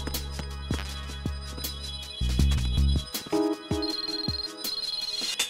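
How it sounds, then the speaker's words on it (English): A telephone ringing inside the Metal Gear Solid 2: Sons of Liberty video game, a repeating electronic ring tone pattern over game background sounds and low thuds, fairly loud and steady throughout. "the phone is ringing"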